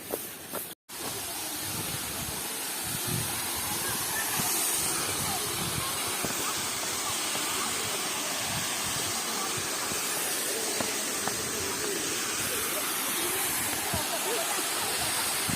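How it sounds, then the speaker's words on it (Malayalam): Rushing water at Thusharagiri waterfall gives a steady, dense roar that fills the whole clip, loud and close, with no clear break. "അപ്പോൾ നമ്മൾ തുഷാരഗിരി വെള്ളച്ചാട്ടത്തിനടുത്ത് എത്തിയിട്ടുണ്ട്"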